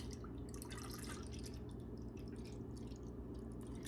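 Almond milk poured into a Ninja blender jar, a soft steady trickle and splash running continuously under a low background hum, close and quiet.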